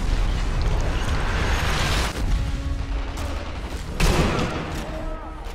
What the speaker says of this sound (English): it's gonna set off his grenade, yes.